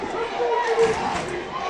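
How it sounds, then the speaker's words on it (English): Central high school football crowd cheering and roaring at a 2014 game against Manual, a dense, steady wash of many voices with shouts rising briefly in the middle, heard from a distance. "Central crowd is alive."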